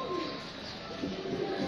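Pigeons coo softly in low, throaty rolls, repeating over a faint background hum.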